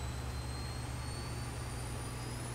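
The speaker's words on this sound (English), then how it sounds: "Hear that APU jet starting up." A Southwest Airlines jet's APU starting up at Los Angeles in the X-Plane 11 flight simulator: a steady low engine drone under a thin high whine that rises slightly and holds, continuous and unbroken.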